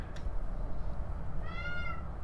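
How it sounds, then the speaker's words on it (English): A cat in the Elite: Dangerous game meows loudly in a drawn-out, rising call near the end, over steady low background hum with no talking. "Oh my goodness, that cat is really shouting"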